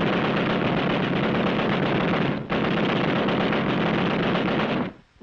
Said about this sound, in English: Then, one of our machine guns opened up.